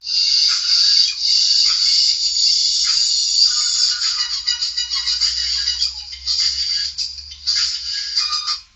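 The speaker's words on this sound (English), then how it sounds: "it's just a phone text message" A mobile phone's text message alert rings out as a bright, sustained electronic warble for several seconds, loud and close, fluttering in short pulses toward the end with no voices over it.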